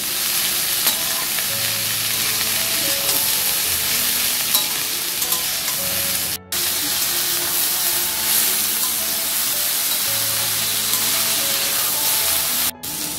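Cabbage frying in a pan for chicken chowmein, a loud continuous sizzle with stirring and tossing noises close up, broken by two brief cut-outs and no talk.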